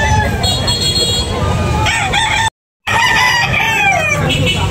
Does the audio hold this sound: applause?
no